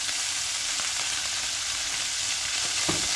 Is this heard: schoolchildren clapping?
no